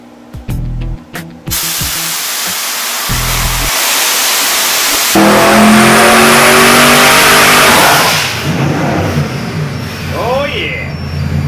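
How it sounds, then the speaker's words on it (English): A twin-turbocharged 427 cubic inch LSX V8 revs hard and loud up close, with a sustained roaring rise and rushing noise mid-clip, preceded by short bursts of engine noise and voices. "Twin turbocharged, 427 cubic inch LSX motor."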